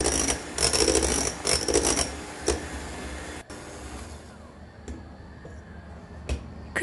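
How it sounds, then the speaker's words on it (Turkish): Milk is whisked with whipped cream powder, giving rapid, rhythmic clicking and scraping bursts that are loud at first, then drop to a quieter, sparser whisking with occasional sharp taps. "Ve krem şanti ile sütü çırpıyorum."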